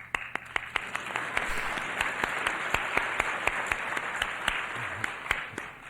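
Audience applause at a 1979 lecture at the University of Georgia, a steady wash of clapping from a crowd with sharp individual claps standing out, heard at moderate distance.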